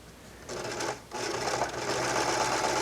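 A Baby Lock sewing machine stitches a decorative seam close by, its rapid needle chatter starting, pausing briefly, then running steadily.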